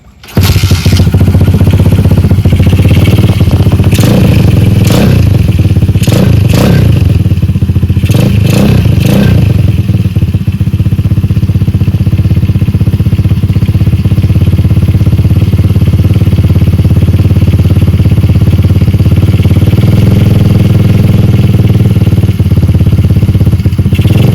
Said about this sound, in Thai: เดี๋ยวลองมาฟังเสียงคาบูแดดกันนะครับ